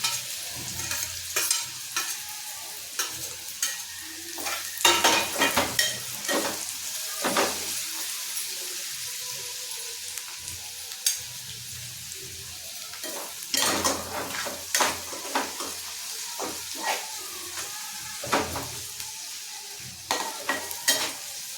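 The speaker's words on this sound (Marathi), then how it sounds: "आता यात मिरची आणि कढीपत्ता टाकायचा आहे." Green chillies and curry leaves sizzle in hot oil over browned onion in a pan, a steady frying hiss broken by repeated scraping stirs and clinks of a spoon against the pan.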